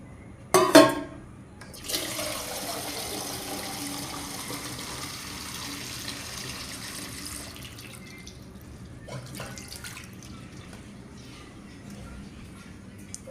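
Water is poured from a mug onto plants. A sharp knock comes first, then a steady splashing pour runs for several seconds and tapers off, with faint dripping near the end.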